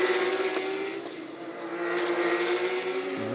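Porsche Carrera Cup race cars at Circuit Zolder roar past in a tight pack, their engines in a sustained high whine that swells as cars approach, with pitch shifts and a brief gear change near the end.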